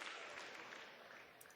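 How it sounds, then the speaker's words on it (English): Soft, faint applause from a small group, a short gentle patter of hands. "That was a golf clap."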